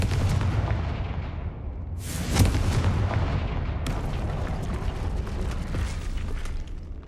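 A Confringo fire spell in Hogwarts Legacy goes off as a booming magical blast, followed by a rumbling, crackling low-end wash and mechanical creaks that linger under steady ambient game noise.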